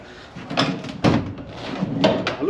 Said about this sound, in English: I'm wondering if I can actually open the sliding door from inside.